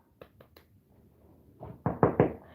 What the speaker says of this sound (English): Got a good knock right there.